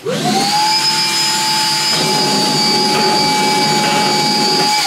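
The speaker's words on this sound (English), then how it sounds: "Wonder if I can suck them up with my vacuum." A vacuum cleaner runs at a steady, loud, close whine, its motor pitch holding evenly with a brief dip and recovery partway through, no voices over it.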